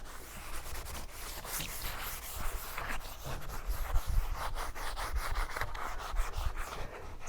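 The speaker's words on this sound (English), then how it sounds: "Just using like a 3M sponge here, a little bit of non-scratch abrasive." Steady close rubbing and scrubbing as a 3M sponge with dishwashing liquid and a mild non-scratch abrasive works over the greasy painted hood of a C3 Corvette, with soft irregular strokes throughout.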